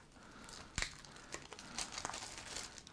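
Plastic packaging from a wrestling board game expansion crinkles and crumples close by in a series of sharp, papery crackles, with one louder snap near the start.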